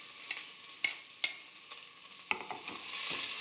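Sliced onions and green chillies fry in a pan, giving a soft continuous sizzle broken by several sharp clicks and taps of stirring, fairly quiet and with nobody talking.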